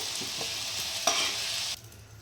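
Malabar spinach and sweet pumpkin lightly frying in a pan, a steady soft sizzle with a couple of quick stirring scrapes before the hiss abruptly drops away.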